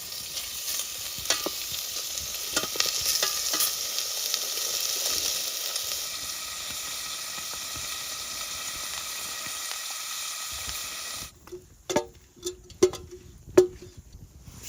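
Chopped char fish sizzles steadily in a pan over a camp stove on a canoe expedition in Lapland, a constant frying hiss, then a few sharp clinks and scrapes of stirring near the end.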